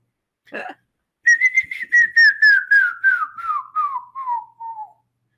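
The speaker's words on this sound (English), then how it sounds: "I can maybe do like a canyon run or something to let's see. demonstrate my whistling." A person whistles a slow descending melody of short connected notes, loud and close, after a brief breathy sound at the start.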